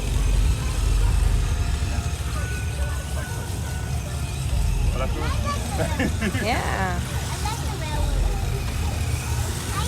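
Car engines rumble and idle at a night car show, a steady low drone with passing revs under crowd chatter and nearby voices.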